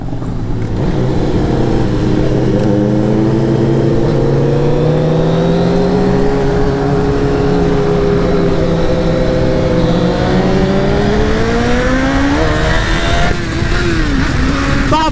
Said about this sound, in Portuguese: Essa moto é muito forte. Só deu acelerada